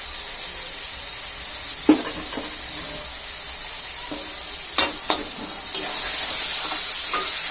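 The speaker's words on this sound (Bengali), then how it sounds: "মশলাটা কষিয়ে নিতে হবে ভালো করে" Chicken masala with turmeric and chili powder fries in a pan, giving a continuous loud sizzle broken by occasional spatula scrapes, with the hiss swelling near the end.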